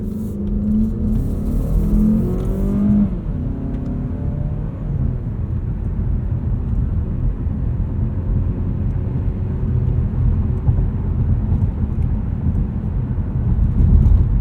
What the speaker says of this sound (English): Let's test this all-wheel drive system out of a corner here.